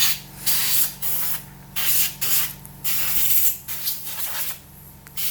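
Cleaner sprayed onto the clutch of a Honda Vario 125 scooter in a series of loud, close hissing bursts, about eight short sprays separated by brief pauses.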